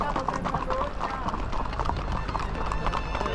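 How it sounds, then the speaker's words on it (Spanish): Horses' hooves clip-clop steadily across a group horse ride in Yauco, Puerto Rico, under constant crowd chatter and background noise. "Todavía queda un montón de caballos ahí, están los muchachos equipando."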